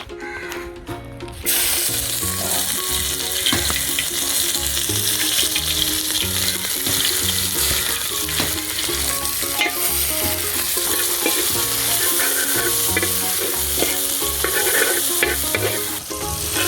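Shallots fry in hot oil in a pan, a loud, close, continuous crackling sizzle that starts abruptly after a brief quiet moment and holds steady with occasional stirring. No one speaks.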